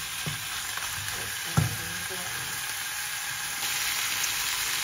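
Chicken wings fry and brown in a pan for lemon adobo, giving a steady close sizzle with light stirring scrapes and one brief louder clatter, no talking.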